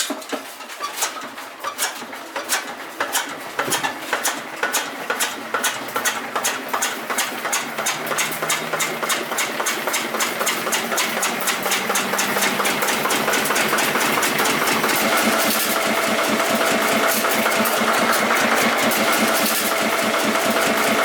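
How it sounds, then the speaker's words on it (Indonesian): An old coffee processing machine in South Sumatra runs steadily, its engine clattering in a fast, continuous mechanical rhythm that grows denser and louder over time, with no voices. "mesin kopi tua yang masih berfungsi hingga saat ini"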